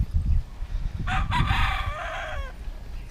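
A rooster crows once at a gamefowl farm, a clear, fairly close call lasting about a second and a half over a low background rumble.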